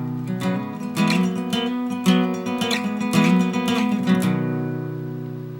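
Strummed acoustic-style guitar plays the opening of a breakdown in G with slides, several rhythmic strokes and quick sliding chord moves ringing out close, ending on a sustained chord, no talk.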